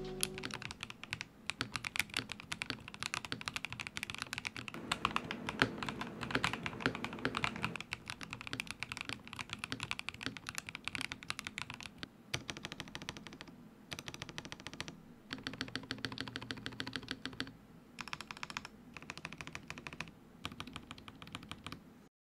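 Rapid typing on a custom Razer mechanical keyboard fitted with linear 5-pin switches, a dense, steady stream of close clacks and keystrokes running throughout with brief pauses and no talking.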